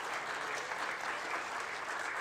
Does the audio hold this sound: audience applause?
yes